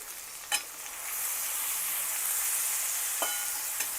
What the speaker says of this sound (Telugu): మధ్య మధ్యలో కలుపుతూ మీడియం ఫ్లేమ్లో వేయించుకోవాలి